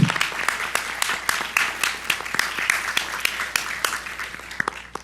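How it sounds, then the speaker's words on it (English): Applause from a modest audience at a high school challenge event, scattered individual claps sounding sharp and distinct at a brisk uneven rhythm, close and continuous for several seconds. "Please go ahead and give yourselves a round of applause for getting here."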